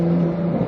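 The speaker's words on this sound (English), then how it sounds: "You can hear the turbos." A modified Porsche 911 Carrera fitted with a new exhaust and turbos gives a steady, loud, droning engine note, with a low rumble and a whirring tone held throughout the short stretch and no voices over it.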